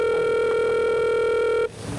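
A telephone line gives a steady, loud, continuous electronic tone that holds for over a second and a half before cutting off abruptly, leaving faint background noise.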